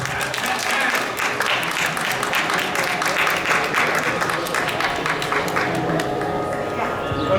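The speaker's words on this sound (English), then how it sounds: "Let us give a big round of applause to Madhura Shankar." An audience gives a round of applause at a Hindu temple celebration at Sri Meenakshi Devasthanam in Pearland, a sustained, fairly loud wash of clapping from a large crowd, with voices mixed faintly underneath.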